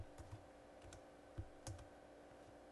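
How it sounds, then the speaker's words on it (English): Numbers being typed on a computer keyboard while entering data into an Excel spreadsheet: a few faint, scattered keystroke clicks with irregular gaps, close but quiet, with no talking. "I'm hitting the right arrow on the keyboard."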